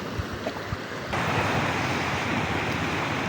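Steady roar of surf breaking on a seashore at Kerteh, Terengganu, Malaysia, rising louder after the first second and holding as a broad, continuous wash with some wind noise.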